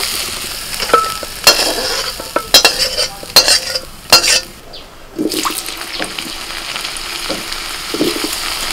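Spices with turmeric frying in a pan, crackling and sizzling under a series of sharp scraping stirs that come in quick bursts, close and fairly loud, then settle into softer sizzling.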